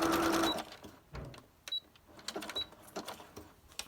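A sewing machine runs a straight stitch across an envelope made from a cereal-box liner, with a short whirring burst at the start followed by fainter, scattered clicks and brief mechanical bursts at close range.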